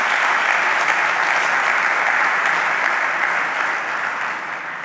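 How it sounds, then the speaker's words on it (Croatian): An audience at the Vizionar godine 2024 award ceremony gives sustained applause, a full, even roar of many hands that holds steady and then eases off slightly toward the end. "Može pljeska malo, slobodno"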